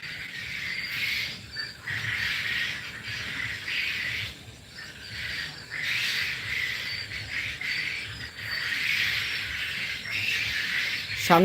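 Japanese quail call on a farm, a dense, continuous chatter of many birds that carries on steadily at moderate loudness with no voices over it.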